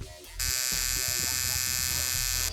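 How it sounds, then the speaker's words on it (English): A coil tattoo machine fitted with a needle cartridge starts up after a short pause and buzzes loudly and steadily for about two seconds before cutting off. "Super weird using a coil machine again, that's for sure."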